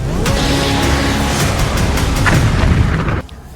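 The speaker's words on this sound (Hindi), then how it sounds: "लेबनान में तेज धमाके की आवाज गूंज रही है।" Loud, rumbling booms roll and echo in Lebanon amid conflict, a heavy continuous low roar with crackling bursts that cuts off abruptly near the end.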